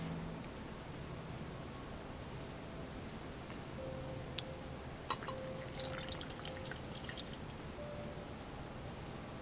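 Hot water poured into a small cup coffee filter, a quiet, steady hissing trickle with faint splashes, soft and continuous with no talk.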